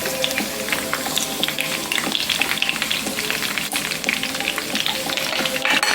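Fresh onions and scallion sizzle steadily in a hot pan for a Jamaican pepper pork stir-fry, with a dense crackling hiss, occasional stirring scrapes and clatters, close and continuous with no talking.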